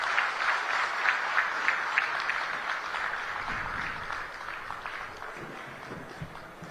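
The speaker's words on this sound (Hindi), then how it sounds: "एक बार जोरदार तालियां बजाकर आइए उनका स्वागत करते हैं।" A hall audience applauds to welcome the chief minister at the inauguration of a Yatharth hospital in Agra: a steady, dense wash of clapping lasting several seconds, moderately loud and even, with some low rumble beneath.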